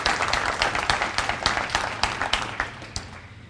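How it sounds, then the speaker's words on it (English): A round of applause at a Prince George's County State of the Economy event, steady clapping from a seated audience with sharp individual claps standing out, moderately loud and continuous throughout. "let's give him a round of applause"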